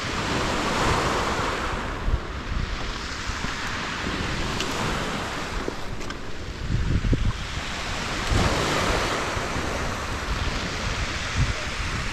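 Sea waves roll and break on a Crimean shore near Gurzuf and Yalta, a loud continuous roar of surf with surges and hiss, heavy wind buffeting across the microphone throughout.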